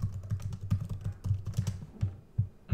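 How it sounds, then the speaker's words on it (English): Fingers tap quickly on a computer keyboard while editing a LaTeX document in Vim, giving a close, fairly quiet run of uneven clicks with no speech. "watch how slow my cursor is when I type these things"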